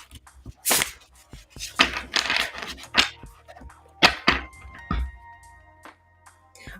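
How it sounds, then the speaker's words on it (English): A tarot card deck is shuffled by hand, giving sharp riffling swishes and taps in irregular bursts with quiet gaps between them, close and fairly faint. "I'm going to just get my tarot deck all warmed up, get a nice shuffle going."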